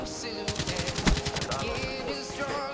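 Rapid automatic gunfire in a Black Ops 3 team deathmatch, a loud, dense burst of rattling shots over the full stretch with overlapping game effects.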